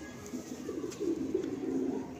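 Andhra pigeons in a loft cooing softly, a low rolling burble of several birds repeating in quick overlapping phrases, close and fairly quiet with no talk.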